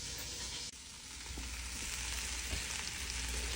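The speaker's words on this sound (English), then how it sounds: "About to throw this flour in there, make us a little roux." Flour cooking in butter for a roux fries with a steady, even hiss close by, faint and continuous with a brief dip early on, for a shrimp bisque.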